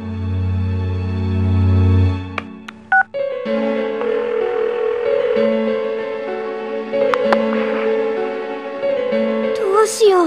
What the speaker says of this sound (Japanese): 里中、天城に電話。